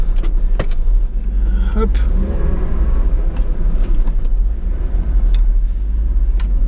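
A 1993 Honda Today Pochette kei car sets off on a test drive, its small engine giving a steady close rumble, with a few clicks and clunks inside the cabin as someone speaks briefly.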